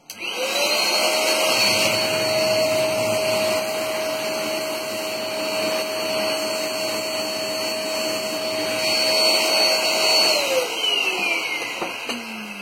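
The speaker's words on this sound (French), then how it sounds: "un coup d'aspirateur, l'aspiration fait que le ventilateur tourne tout seul" Vacuum cleaner sucking air through an HP Z400 workstation so its stuck cooling fan spins on its own; a loud, steady whine with a constant high tone that holds for about ten seconds, then winds down at the end.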